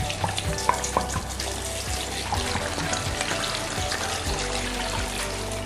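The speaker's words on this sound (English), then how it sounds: "And then we're going to add water." Water gushes steadily into a large stock pot, about 5 litres, a continuous rushing splash with a slight sizzle-like hiss, close and fairly loud throughout.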